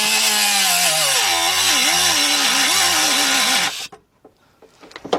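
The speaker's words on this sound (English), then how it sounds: "let's get our cutting wheel and make us a mark over there" A cutting wheel scores a marking line into a Ford Mustang floor pan with a loud, close, wavering high-pitched metallic whine that cuts off abruptly, leaving a few faint clanks and rustles.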